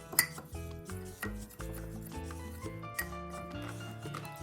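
Spices for veal tongue, including turmeric, ground black pepper and coarse salt, are mixed in a bowl with a spoon, producing repeated scraping and clinking over a soft musical background, with no speech.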